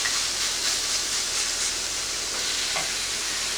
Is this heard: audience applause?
no